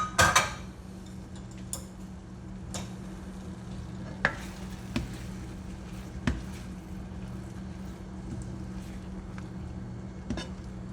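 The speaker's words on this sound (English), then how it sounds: "throw in the rest of my green onions, and then just give it a toss" Green onions tossed with fried black drum and an Asian sauce in a pan: a steady low sizzle runs throughout, broken by occasional sharp scraping clicks of stirring, close and with no voices.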